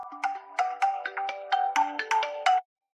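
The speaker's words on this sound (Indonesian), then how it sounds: "dan ponsel Anda akan mulai berdering" A smartphone rings with a melodic ringtone, set off by the find-phone feature of a HONOR Choice Watch 2 Pro smartwatch. A quick run of bright chiming notes plays clearly and alone for about two and a half seconds, then cuts off abruptly.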